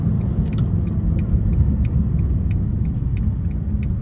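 A red 2012 Mercedes SLS AMG supercar pulls away with a loud, steady, close engine rumble, with light rhythmic clicks ticking above it throughout.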